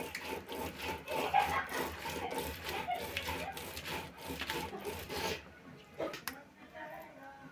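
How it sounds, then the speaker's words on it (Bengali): Dried fish paste is ground on a grinding stone with steady, rhythmic rasping strokes, close and moderately quiet, stopping near the end and leaving near silence and a few faint knocks. "এখন আমি শুটকির ভর্তা বেটে নেব।"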